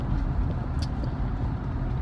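A freshly installed crate motor in a street stock race car runs during its first start-up break-in, giving a steady, close, continuous engine rumble without pause.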